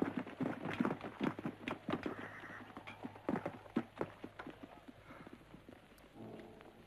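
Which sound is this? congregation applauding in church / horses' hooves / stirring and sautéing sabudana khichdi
horses' hooves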